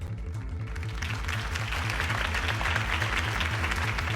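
Crowd applause after a campaign speech in the Batman Telltale video game, a steady wash of clapping under a low, pulsing music bed for several seconds.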